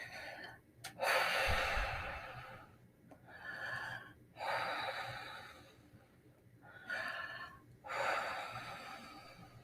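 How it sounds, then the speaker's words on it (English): Deep breaths during a grief meditation, four slow breathy inhale and exhale cycles heard close and alone, each swelling and fading with short quiet gaps between. "Take a deep breath."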